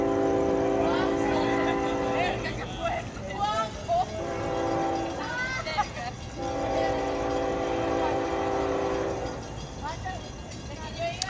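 FEC freight train 107 rolls past on a passing track under a green signal, its horn sounding in long sustained blasts amid steady rail rumble, with people talking over it.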